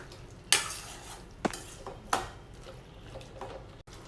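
Mixed vegetables are stirred in a pan for curry: a few sharp spoon knocks and scrapes against metal over a soft background hiss, sparse and close, with no talking.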